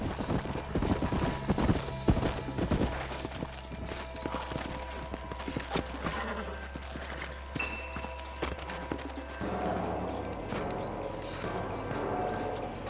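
Horses in the western game Red Dead Redemption: rapid clip-clopping hooves that are busy at first, then ease into slower, scattered steps, over a low ambient rumble, with a brief rising tone near the end.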